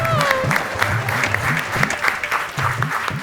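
Audience applause at a comedy storytelling show, steady dense clapping throughout with a voice speaking over it and brief rising tones.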